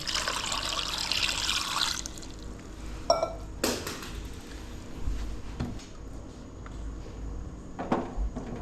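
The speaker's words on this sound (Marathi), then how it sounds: "पाणी ओतून घेतो त्याच्यात" Water is poured into a pot of river freshwater mussels set up for cooking: a steady rushing pour for about two seconds, then a few close clinks and knocks of the pot, with no talking.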